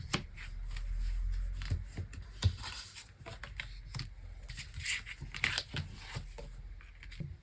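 Tarot hint cards shuffled by hand in repeated riffling and slapping bursts, close and crisp, with irregular rustles and taps across several seconds and no voice over them.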